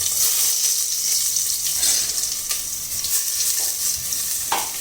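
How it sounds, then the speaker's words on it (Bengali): Garlic fries in hot oil with a steady, close sizzle and crackle, punctuated by a few faint scrapes of stirring. "আমি এই যে গার্লিক যেটা রসুন দিচ্ছি, এটা টপ দিয়ে দিব।"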